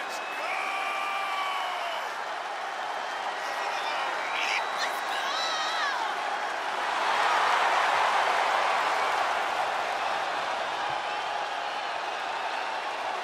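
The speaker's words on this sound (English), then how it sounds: "Listen to this ovation." A crowd in the WWE 2K24 wrestling game gives a broad ovation of cheering and applause that swells louder partway through, with brief whoops over it.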